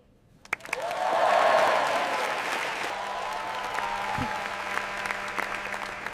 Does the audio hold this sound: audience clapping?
yes